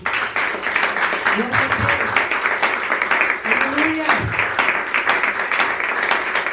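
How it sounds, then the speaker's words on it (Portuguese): Church congregation clapping at a prayer service, a steady dense patter throughout, with a voice calling out over it and sung or spoken praise mixed in. "Aplauda o Senhor."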